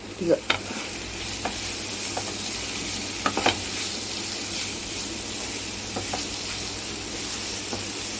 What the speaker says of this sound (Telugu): క్యాబేజీ వేగిందో లేదో చూద్దాము. చూడండి, ఇంకా వేగాలి కొద్దిగా.